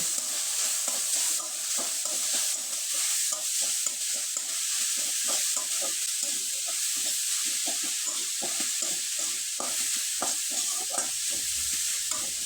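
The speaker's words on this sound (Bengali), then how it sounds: "এখন নেড়ে চেড়ে এই পুরটা আমি তৈরি করে নেব" Coconut and jaggery pitha filling being stirred in a hot pan, a continuous close sizzle with rhythmic scraping strokes of a spoon repeating steadily throughout.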